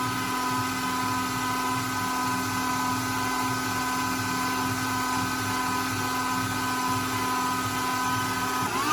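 An electric mixer whips tiger's eye whipped body butter, giving a loud, continuous, steady mechanical whine that runs unbroken from start to finish with no voices.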